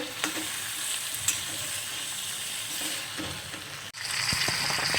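Turmeric hitting hot oil gives a steady, close sizzle with a few sharp spattering pops, briefly cut short near the end before the frying sound surges back louder.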